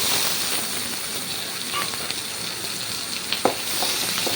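Chopped tomatoes sizzle steadily in a hot pan for a chicken curry, with a few soft scrapes and clacks of a spoon stirring them near the end; no talking.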